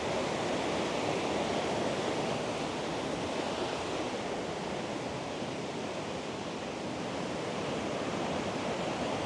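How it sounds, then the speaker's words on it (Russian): Mountain water streams over stones in a remote Tajik village, a steady, full rushing roar that holds evenly throughout with no voices. "Отовсюду вода льется"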